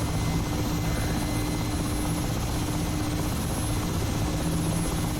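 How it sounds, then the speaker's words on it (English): Steady, droning rotor and turbine noise from an Mi-8 helicopter in the DCS flight simulator, a constant mid-level whir with no talk over it. "So first time ever taking off with the Mi-8"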